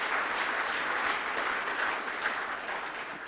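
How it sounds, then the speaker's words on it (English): Sustained applause from an audience at a printing industry awards ceremony, a steady dense wash of clapping holding at an even level for a few seconds without voices on top. "So if everyone could please give him a round of applause."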